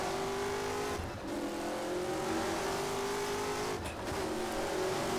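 A race car engine in the rFactor racing game drones loudly at high revs, briefly dipping twice as gears shift up before climbing again, with no talk.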